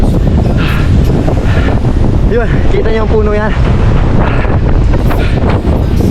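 Strong wind buffeting the microphone on an exposed hillside path near a large balete tree, a loud steady roar throughout while someone speaks over it.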